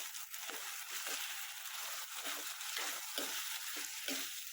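Turmeric and coriander-cumin powder being stirred into a frying masoor lentil pulao in a pan, a steady sizzle with rhythmic scraping strokes, fairly faint and alone.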